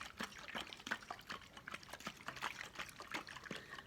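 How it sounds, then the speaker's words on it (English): Water and oil slosh and splash inside a tightly lidded jar being shaken by hand, a rapid, busy liquid churning heard close and fairly quiet. "I'm going to shake my jar"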